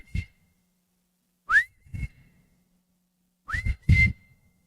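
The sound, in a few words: person whistling, imitating grandfather's signal whistle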